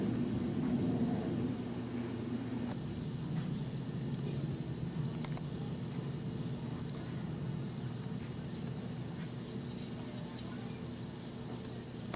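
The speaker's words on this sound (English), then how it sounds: "Not many electric planes are that big" A large electric model airplane flies over Mission Bay, its steady motor drone and propeller hum running continuously at a moderate distance under faint outdoor background noise.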